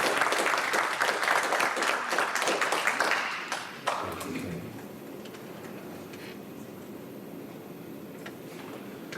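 Audience applause fills the hall at a band concert award presentation, loud and dense for about four seconds before thinning into scattered claps and a quieter room.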